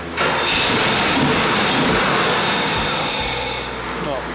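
A Koenig Mercedes engine cranks over without settling into an idle, giving a close, loud, continuous churning roar that fades slightly toward the end as someone speaks.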